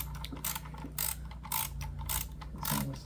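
Ratchet clicking in short bursts as spark plugs are tightened by hand on a 2004 Honda Accord EX 2.4-liter engine, close and crisp, repeated strokes with brief pauses between.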